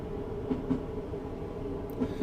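Train in Train Simulator 2018 on the Blaenau Ffestiniog to Llandudno route coasts at about 30 mph, a steady low rolling rumble with a few soft rail clicks, heard alone and evenly loud.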